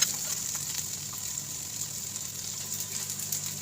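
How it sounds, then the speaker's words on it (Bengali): Chopped tomato and onion fry in a pan for a Bengali bata fish curry, giving a faint, steady sizzling hiss throughout with no talking. "টমেটো পেঁয়াজ আরও একটু ক্ষণ ভেজে নেবো"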